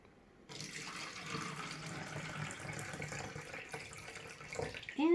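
Water is poured from a tap or jug into a row of cups, a steady close splashing stream that fills one cup after another, ending with a brief rising tone as a cup fills.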